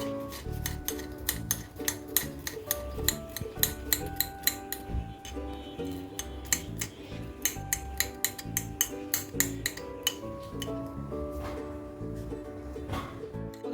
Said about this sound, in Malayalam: അതുപോലെ തന്നെ വെളുത്തുള്ളിയും അതുപോലെ തന്നെ നമുക്ക് ചെറുതാക്കി കട്ട് ചെയ്തെടുക്കാം